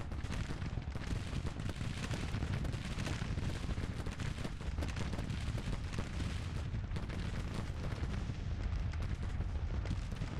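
Cannon artillery fire in the Grand Tactician strategy game, a dense, continuous barrage of booming shots and rumbling blasts filling the whole stretch with no pause, loud and close.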